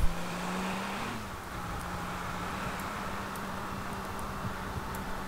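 Steady engine hum of a car driving along a road in The Sims 3 game, a continuous low drone with a slight shift early on, heard alone at moderate level without talk.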